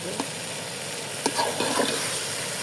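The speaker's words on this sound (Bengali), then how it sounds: "এখন চালটা কিন্তু ভালো মতো একটু কষা নিতে হবে।" Rice sautéing in hot oil in a pan for khichuri, a steady close sizzle with soft scraping stirs and a few light clinks of the spoon, no voices.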